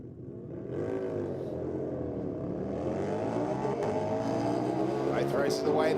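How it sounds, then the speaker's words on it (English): A car and a Harley motorcycle race down a drag strip at a night meeting in Sydney, engines rising in a long, rolling roar with a commentator talking over them. "Both races away the Aeroflow lane out in front at the moment, but the Harley is certainly no slouch."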